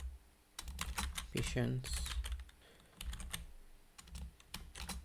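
Fingers tap on a computer keyboard in short quick bursts of close, crisp keystrokes, with quiet pauses between runs and a voice speaking briefly over the clicking.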